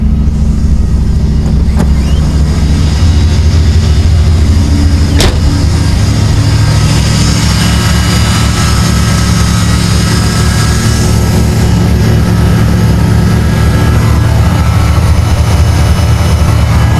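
An 84 Camaro Z28 engine runs loud and close after starting, a steady heavy rumble that holds throughout with slight shifts in pitch and no talk.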